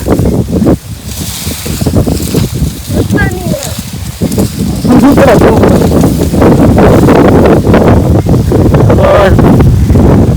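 Outdoor wind on a farm buffets and rumbles loudly against the microphone in uneven gusts, with people talking over it.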